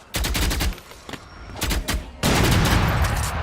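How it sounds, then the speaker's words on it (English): Gunfire in a Valorant esports match, including an Operator sniper rifle shot; several loud, sharp shots and bursts ring out close, ending in a sustained heavy blast. "Laden gets the first kill on Flame with the operator"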